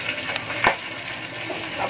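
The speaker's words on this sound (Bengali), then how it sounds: "মাছের মাথাগুলো ভাজছি তো সেই জন্য তেল ছেটকাচ্ছে।" Fish heads frying in hot oil, with a soft steady sizzle and one brief sharp spatter of oil partway through, close and fairly quiet.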